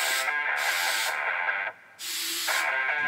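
Several short hissing bursts of spray from a can into a homemade carrot cannon, close by, with a brief pause between the middle bursts.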